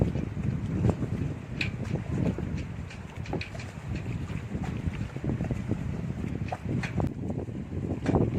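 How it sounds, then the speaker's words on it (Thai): Strong wind at sea buffeting the microphone while fishing from the back of a boat, a continuous loud roar with gusts and faint clatter from the boat; no talk. "โอ้โหลมแรงมากวันนี้"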